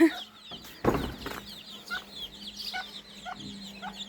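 Bantam and mixed-breed chickens cluck in short, scattered bursts, close by, with a sharp clatter early on and light background bird chatter.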